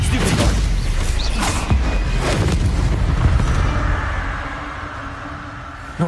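A Confringo explosion spell cast in Hogwarts Legacy: a broad, loud rumbling boom that rolls on for several seconds and slowly fades, ending with a faint thump.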